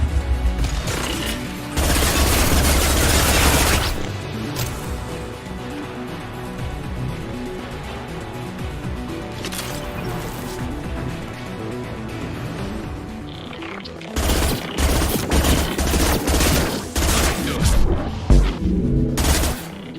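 Dense bursts of gunfire in a Mass Effect 2 firefight on Insanity difficulty: rapid volleys and impacts at the start, a quieter stretch of scattered shots with battle ambience, then heavy sustained firing returning near the end.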